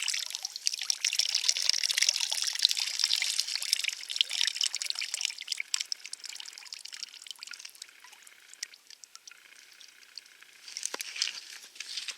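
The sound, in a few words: corn can juice poured into a lake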